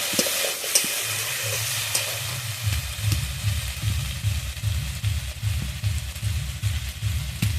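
Vegetables for a Bengali chorchori, pumpkin greens with papaya and jackfruit seeds, sizzle in hot oil in a pan, a steady frying hiss joined by a regular, rhythmic scraping of stirring close by, with no talking.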